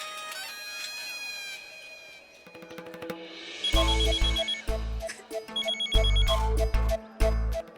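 A telephone ringing indoors during a Hindi TV drama: a repeated electronic ringtone with bright tonal bursts, fairly loud and close, following a stretch of soft background music, with no talk over it.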